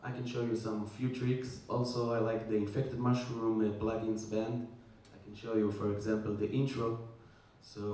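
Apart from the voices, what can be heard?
No everyday noise stands out behind the speech.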